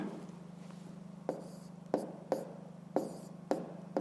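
Handwriting on paper during a fifth-grade math exercise, a steady scratching punctuated by five or six sharp taps and strokes at irregular intervals over a constant low hum.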